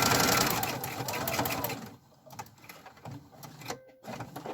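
A sewing machine stitches fabric for a handmade fabric advent calendar, running in a fast close mechanical whir for about two seconds, then stopping at a corner with a few quieter clicks and taps as the work is turned.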